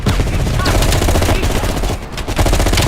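Sustained automatic gunfire rattles through a Call of Duty Black Ops Cold War firefight, dense and loud bursts overlapping without pause, briefly thinning near the end before resuming.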